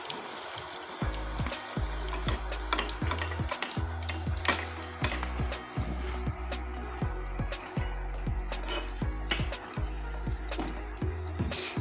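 A Mughlai paratha frying in oil, with a continuous soft sizzle and bubbling under a string of sharp ticking pops and clatters from the pan, heard up close with no talking.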